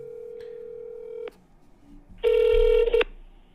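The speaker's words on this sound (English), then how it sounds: "I'm going to make a quick phone call here and put it on speakerphone for you" A phone call rings out over a speakerphone: a steady electronic ringback tone sounds, stops, then returns louder for about a second before cutting off, with no one talking.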